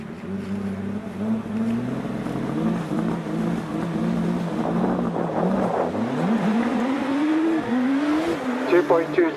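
A 1.3-litre turbocharged Gould race car launches at a British Hill Climb Championship event at Doune. Its engine note climbs through repeated rising harmonic sweeps as it accelerates hard, and a voice may be heard underneath.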